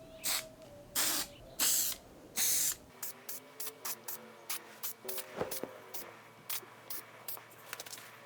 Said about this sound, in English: So we're going to try to prevent that with this spray.